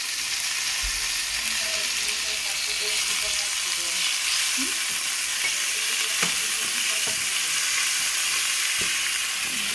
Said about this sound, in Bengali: পেঁপের সাথে মাংসটা ভাজা করতেছি